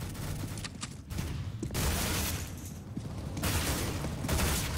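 Gunfire from the Counter-Strike: Global Offensive video game, dense bursts of shots rattling through several seconds with brief lulls, busy and fairly loud throughout.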